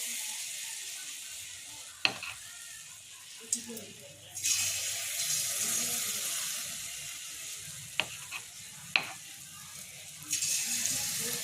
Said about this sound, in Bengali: এরপর আমি ছোট ছোট করে এবারে মালপোয়াগুলো দিয়ে দেবো তেলের মধ্যে।